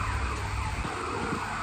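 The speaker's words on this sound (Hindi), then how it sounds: "और क्या सायरन आ रहे हैं" A siren wails at a distance, steady and moderately faint, over a constant background rumble of traffic and city noise.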